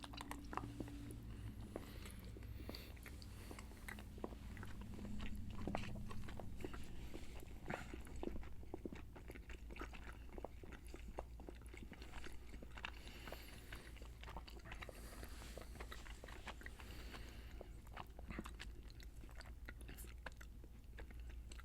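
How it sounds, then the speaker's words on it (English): Two people chewing food, with soft, wet mastication and crunching sounds that repeat irregularly at close range and low volume, plus occasional faint shuffling. "we're gonna chew this thing"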